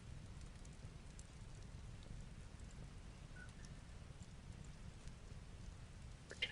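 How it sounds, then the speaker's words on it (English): Steady rain patters in the background as a soft, continuous wash with low crackling, likely mixed with a campfire, no voices. "We've got rain sounds and camp fireplace sounds in the background."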